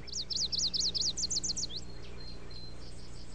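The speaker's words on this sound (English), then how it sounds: "Warblers nest in North America and migrate south for winter." A warbler sings a quick series of repeated high, sweeping notes that ends in a short flourish, followed by a few faint scattered chirps over a low steady background hum.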